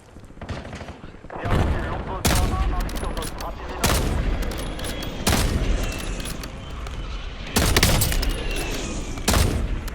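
Gunfire in the Call of Duty Warzone video game, repeated sharp bursts of shots and rattling automatic fire arriving in loud clusters over continuous battle noise, with speech mixed in among the shooting.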